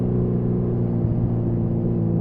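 A 1981 Suzuki GS650GL motorcycle engine hums steadily at a relaxed, low pace while riding, a continuous loud rumble with no voices.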